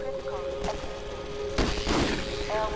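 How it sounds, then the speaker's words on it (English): Shotgun blasts ring out in the Half-Life 2 game world, a couple of sharp booming reports with rumbling tails against steady game background tones, moderately loud. "I heard shotguns"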